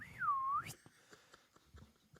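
A single whistled note swoops down and back up, imitating a pea whistle, followed by faint clicks and quiet background noise.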